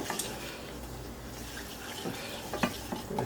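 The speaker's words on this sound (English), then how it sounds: "And this we want to stir continuously." Vegetable filling with flour is stirred continuously in a pan: a soft, steady scraping and gentle sizzle, low and close, with a few faint knocks of the spoon against the pan.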